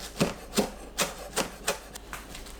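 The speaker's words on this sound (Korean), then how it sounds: "쪽파 30g 잘게 썰어주세요." A knife finely chopping scallions (green onions) on a board, seven steady, evenly spaced cuts that are close and clear, with nothing else heard.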